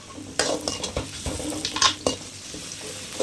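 Ginger garlic paste frying with onions and tomatoes for a quail gravy, loud close stirring and scraping strokes in irregular bursts over a steady crackling sizzle, with no talk.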